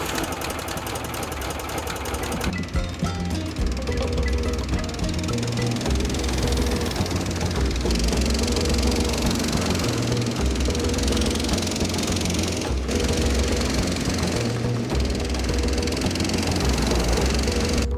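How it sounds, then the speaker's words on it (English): A 14 horsepower Briggs & Stratton heavy-duty lawnmower engine on a Snow Dog snow groomer runs loud and close, a steady rapid chugging drone with a hard mechanical clatter and no talk. "this is a 14 horsepower Briggs & Stratton heavy duty lawnmower engine"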